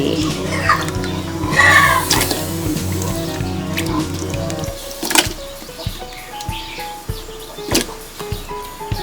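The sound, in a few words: winter melon put into boiling water for soup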